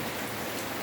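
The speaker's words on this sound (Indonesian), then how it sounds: "Hujan." Steady rain falling outdoors, a dense even hiss of drops on surfaces with no talking.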